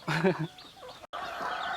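Soft clucking from a mother hen with chicks nearby, a few short throaty calls followed by quieter rustling ambience.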